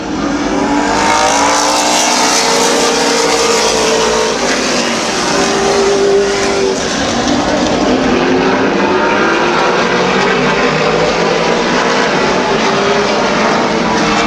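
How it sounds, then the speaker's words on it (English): Race cars roaring around a small oval speedway track, a continuous loud blend of several engines rising and falling as they pass, with no talk. "Getting that car dialed in for next week's main event race up at Lorain County Speedway."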